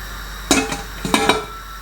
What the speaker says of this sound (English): close the lid and leave this for about 2 minutes